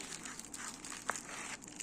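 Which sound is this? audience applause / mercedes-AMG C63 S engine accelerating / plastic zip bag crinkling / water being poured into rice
plastic zip bag crinkling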